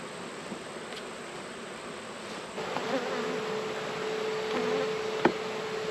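Honey bees working fresh comb inside an open hive box give a steady, close insect buzz that holds throughout and swells slightly, with a faint tonal whine joining partway through.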